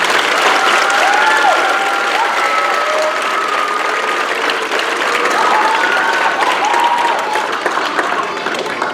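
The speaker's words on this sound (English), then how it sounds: "Let's give them one more round of applause." Sustained applause from a crowd at a football league awards event, steady clapping filling the whole stretch with a few faint whistles or cheers mixed in.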